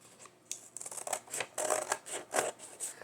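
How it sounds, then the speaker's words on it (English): Scissors snip through a paper bag at close range during a garden journal craft project, giving a quiet series of crisp cuts in an uneven rhythm, with no talking. "Let's cut this one out."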